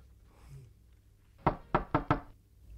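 Someone knocks on a door four times in quick succession, sharp and close, after a brief quiet lead-in with faint background murmur.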